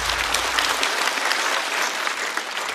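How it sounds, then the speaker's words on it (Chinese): An audience at a stand-up comedy show claps in steady, dense applause, loud and close, filling the whole moment without a break. "再次掌声送给二哥。"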